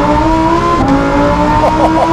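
A Lamborghini Huracan STO fitted with a Novitec exhaust, heard as a loud, steady engine drone with sustained tonal pitch that shifts slightly, ending in a few quick rises like gear changes or throttle blips.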